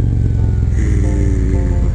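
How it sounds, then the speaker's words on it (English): Harley-Davidson Road Glide Special with a Khrome Works full exhaust system rumbling close up, a deep, loud pulsing engine note that rises slightly partway through. "I really wasn't expecting for this bike to sound this way"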